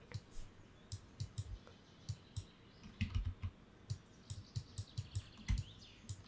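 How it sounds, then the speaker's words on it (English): Keys clicking on a computer keyboard during photo editing in Photoshop, with several short, sharp presses spread irregularly through the clip. Faint bird chirps sit in the background. "Control Z to go back."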